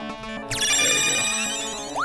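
Electronic phone ringtone in a gamejam video game, a bright, loud chiming warble that swells and sustains for about two seconds over a background music tone, with no talk.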